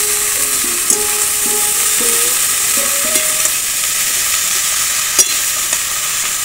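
Prawns and onion frying in a pan as cut pumpkin stems and vegetables are tipped in, giving a loud continuous sizzle with stirring scrapes and a few sharp clinks, close to the listener.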